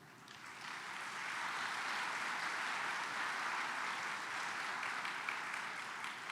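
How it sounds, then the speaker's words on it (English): Applause at an anniversary awards luncheon honoring past education award recipients, a broad sustained roar of many clapping hands that swells in the first second and holds steady throughout. "let's give them an applause"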